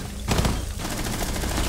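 Shotgun fire in the video game Rainbow Six Siege, a loud burst of blasts followed by dense rumbling combat noise that continues throughout.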